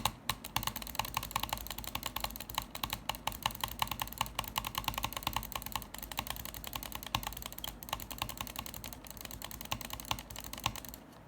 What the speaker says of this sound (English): Now I'm going to be doing butterfly clicking.